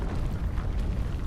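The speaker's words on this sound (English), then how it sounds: "This is an incredibly long explosion. It's still exploding." A long, rumbling explosion in the video game Planet Crafter, a low, sustained roar that keeps churning without a clear end, fairly quiet.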